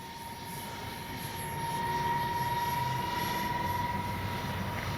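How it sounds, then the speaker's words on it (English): An X-Fly Su-57 RC jet with twin 40 engines flies past on a steady, sustained whine with a thin high tone, rising slightly in loudness partway through and holding at moderate distance, with no talk. "The little twin 40s sound good."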